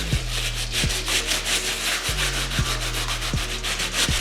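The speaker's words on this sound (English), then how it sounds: "this stiff bristle brush is creating so much friction" Rapid, rhythmic scratching of a stiff bristle brush scrubbing back and forth against the rubber sole of an Air Jordan 4 Bred sneaker, close and gritty, with no talking.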